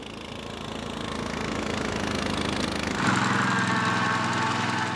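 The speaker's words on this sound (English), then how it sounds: "Actually, the CC36 is primarily a mower." An Aebi CC36 mower, a compact alpine machine, runs with a steady mid-pitched engine drone that builds gradually, then shifts to a harsher, louder throb, close and continuous with no talk.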